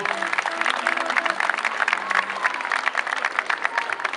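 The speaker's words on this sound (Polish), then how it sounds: "Wielkie oklaski dla samorządowców." A crowd applauds local government officials at a 3 May celebration in Wejherowo, dense sustained clapping that stays loud and even, with a few voices mixed in.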